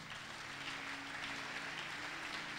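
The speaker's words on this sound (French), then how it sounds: "acclame très fort" A church congregation applauding, a steady wash of many hands clapping at once, heard at a moderate distance with no talk over it.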